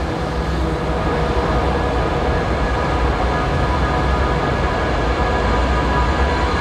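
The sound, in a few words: painted S-Bahn train at Leipzig station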